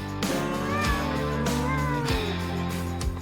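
A cat meows while playing with a toy, giving several drawn-out, wavering cries in a row over steady background noise.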